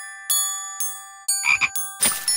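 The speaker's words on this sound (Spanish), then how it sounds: "Jorge ha encontrado un grupo de ranas muy musicales." Cartoon frogs in a Curious George video game croak musically, a handful of short, bright, tuned ribbits spaced apart over a sustained chiming tone, close and clear.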